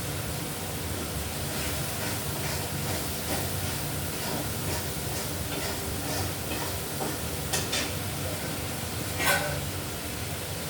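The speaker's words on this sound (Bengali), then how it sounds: "এই মশলাটা ভাজা হয়ে যাচ্ছে" Steady, soft sizzling of masala spices frying in hot oil for a fish curry, a continuous hiss with occasional light crackles and a brief scrape near the end.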